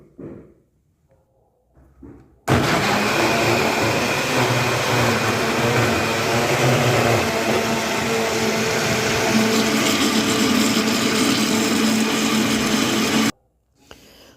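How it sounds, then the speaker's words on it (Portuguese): Blender whirs loudly and steadily for about ten seconds, mixing carrot cake batter made with oil, then stops abruptly; quiet handling sounds before it starts. "E é só misturar tudo aqui dentro e liquidificar"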